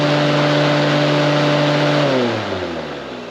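The electric radiator fan on a Volkswagen Vanagon runs loud and close with a steady whir and a tonal hum, then its pitch drops as it spins down near the end.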